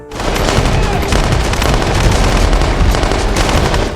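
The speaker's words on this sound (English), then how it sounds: "an armed convoy stormed in, unleashing a relentless barrage of gunfire at the Saviors" Loud, rapid, continuous gunfire, dense automatic bursts overlapping in a sustained barrage with no pauses.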